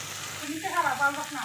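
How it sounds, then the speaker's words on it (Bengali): Spices with salt and bay leaf frying in mustard oil in a pan, a close steady sizzle with soft scraping as they are stirred, and a faint voice in the background. "এখন আমি এখানে নাড়াচাড়া করে নিচ্ছি ভালো করে মশলাটা ভেজে"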